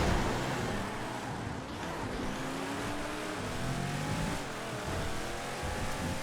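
A Sabre drag car in the GTA FiveM video game drives with a steady, fairly quiet engine drone whose pitch rises and falls as it accelerates and brakes, heard alone without talk.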